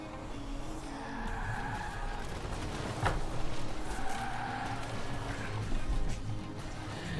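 Tires skidding and squealing in the Forza Horizon 4 racing game, driven with a steering wheel: a steady engine drone with tonal screeches rising and falling over about seven seconds, sharper bursts near the middle.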